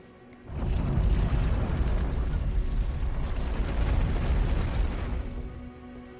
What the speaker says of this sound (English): the fact that it has a giant mortar system is cool as hell